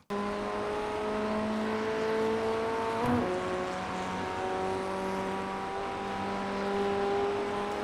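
A Ray FF1600 formula car laps Laguna Seca in the iRacing simulator, its engine droning steadily at high revs with gear shifts and pitch changes, one sharper transient midway, continuous and without speech.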